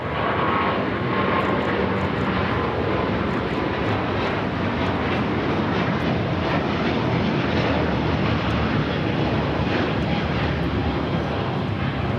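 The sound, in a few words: Emirates airliner at LAX heading to runway 25 left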